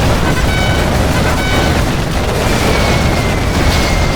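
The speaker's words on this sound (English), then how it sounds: "Our enemy is using that particle cannon." A sustained, loud, rumbling explosion from a particle cannon strike in the strategy game Command & Conquer Generals Zero Hour, a dense roar that fills the whole clip with steady intensity and no talk over it.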